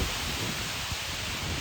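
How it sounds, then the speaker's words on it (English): Heavy monsoon rain in Kerala, a steady dense broadband wash of downpour with no gaps, close and continuous throughout. "This is the Kerala rain."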